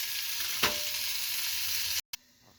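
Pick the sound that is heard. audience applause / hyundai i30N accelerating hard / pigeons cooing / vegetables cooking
vegetables cooking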